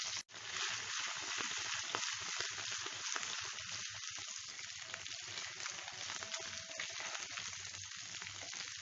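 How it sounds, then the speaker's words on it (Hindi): Mutton brain frying over a high flame in a pan, a steady close crackling sizzle with dense popping that carries on unbroken throughout, with no talking. "देखिए अच्छे से फ्राई हो रहा है"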